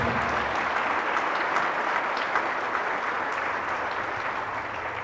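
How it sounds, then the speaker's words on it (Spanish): Congregation applause at a Catholic Mass after a scripture reading, a dense, continuous rush of many hands clapping at moderate volume that holds steady for about five seconds with no speech. "Fuerte ese aplauso a la palabra de Dios."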